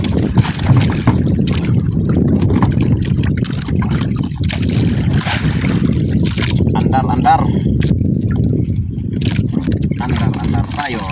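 A fishing boat motor drones continuously at sea while trolling, with wind buffeting the microphone and someone talking over the engine throughout.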